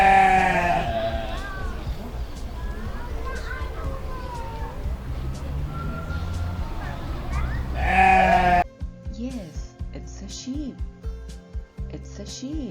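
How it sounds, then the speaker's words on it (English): Sheep bleat loudly and close by, a string of wavering, nasal calls that rise and fall, with several separate short bleats toward the end. "It's a sheep."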